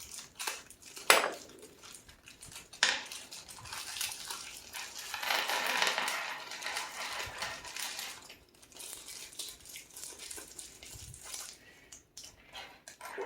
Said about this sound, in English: open up this little kit of screws and bolts and whatnots